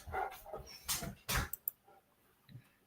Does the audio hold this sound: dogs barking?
yes